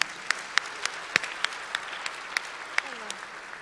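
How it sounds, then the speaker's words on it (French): At a morning conference on artificial intelligence in healthcare, a sparse audience applauds the speakers with scattered, distinct claps that ring out irregularly over a quiet room, sounding fairly distant. "je voudrais vous demander, si vous voulez bien, d'applaudir très chaleureusement tous les intervenants de cette matinée"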